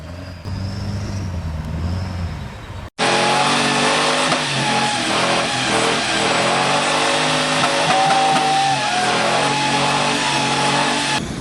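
A 2002 Duramax diesel pickup truck at a charity event in Holland, Texas roars loudly and continuously after a brief quieter opening, its engine revving hard under heavy crowd and event noise.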